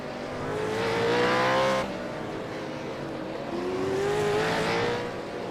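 A V8 Supercar in a racing game at Imola roars as the throttle opens, the engine tone climbing, dropping back between gears and rising again, loud and continuous with no talk.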